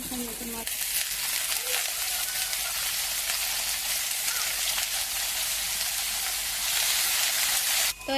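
Thinly sliced potatoes with onion fry in a pan, making a steady close sizzle and crackle, with a voice briefly heard at the start and end.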